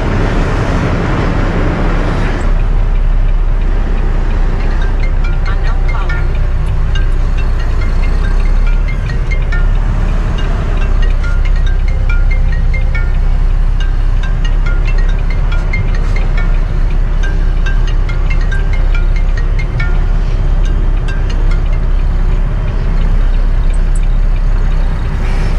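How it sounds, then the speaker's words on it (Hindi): Heavy traffic jam on a Canadian road, with car and truck engines idling together in a continuous low rumble and broad roadway hiss that holds steady throughout. "ट्रैफिक काफी लग गया है ना थोड़ा सा."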